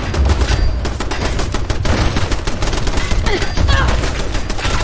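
Sustained gunfire from a weapon in Fallout 4, a dense rapid volley of shots with booming low impacts running continuously and loud throughout.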